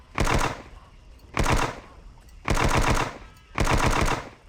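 Uzi pistol automatic fire in the Jurassic Park Hunter Legends video game: four loud sustained bursts, each roughly half a second long, separated by brief pauses, with no talking.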